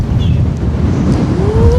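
Steady, loud wind rumbles and buffets against a microphone outdoors, a continuous roar with no pauses and no talking.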